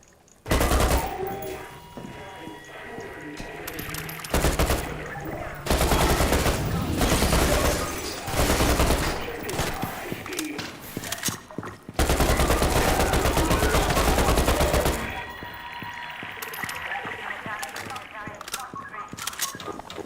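AKM rifle fire in Half-Life 2, loud close bursts of rapid automatic shots in several volleys separated by short pauses, with clattering game noise between.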